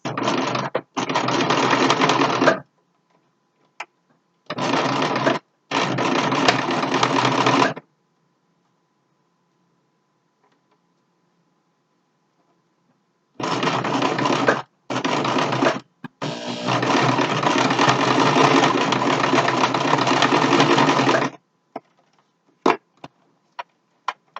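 A sewing machine stitches fabric for a homemade face mask. It runs in several close, steady bursts of rapid whirring, the longest lasting about eight seconds, with quiet gaps and faint handling clicks between them.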